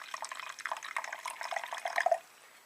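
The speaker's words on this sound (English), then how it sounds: "So the first thing I'm going to do is add some water to this" Water is poured into a boron reaction mixture in a lab vessel, giving a close, irregular splashing and burbling that runs for about two seconds and then stops abruptly, leaving near silence.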